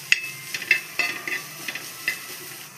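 Vegetables seasoned with black pepper and salt are stirred in a hot pan, with sharp spoon scrapes and clinks repeating over a steady low sizzle, close up.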